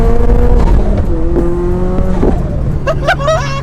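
Toyota GR86 with an HKS turbo kit accelerates hard, the engine note climbing steadily as the turbo spools, loud and close from inside the car, with short voice sounds near the end.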